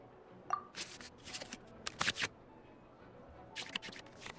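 Cards being shuffled back into the draw pile in the Genshin Impact card game: a string of short, crisp papery flicks and swishes, clustered in quick bursts with quiet gaps between, with no talk.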